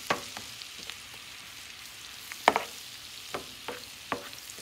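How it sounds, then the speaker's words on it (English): Garlic stirred and fried in a pan for spicy garlic butter shrimp gives a soft, steady sizzle, broken by a few sharp clicks and scrapes of a utensil against the pan. No one speaks. "Keep on stirring the garlic."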